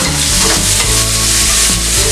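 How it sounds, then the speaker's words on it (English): Chopped onion hitting hot oil, a loud continuous close sizzle with dense crackle that holds steady throughout, no speech. "To the same oil, I'm going to add some chopped onion"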